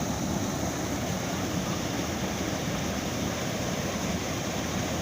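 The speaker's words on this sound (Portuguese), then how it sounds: "Essa é a mais linda cachoeira daqui da Fazenda Mufumbo." A waterfall at Fazenda Mufumbo pours with an unbroken, full rushing noise, near and fairly loud. It holds steady throughout with no speech.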